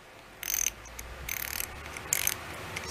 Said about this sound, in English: it's a cheapy ratchet.